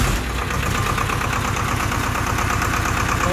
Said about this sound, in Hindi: एक बार स्टार्टिंग की सुन लेते हैं इसकी आवाज़